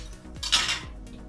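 Cooked garlic pea pulao rice being served out of a pot onto a dish, with a few sharp metal spoon clinks and scrapes against cookware, close and brief, no talking.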